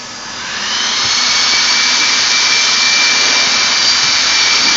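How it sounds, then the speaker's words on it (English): A heat gun warming the back of an inflatable floor during replacement, a loud, steady roaring blow that ramps up in the first second and then holds constant, alone with no voices. "There's a heat gun, heating it on the back like this, no problem."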